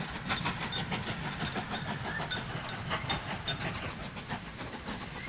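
A train rolls along continuously in the railway-building game Mashinky, with a steady hiss and rumble and a soft, repeated clickety-clack at moderate loudness throughout.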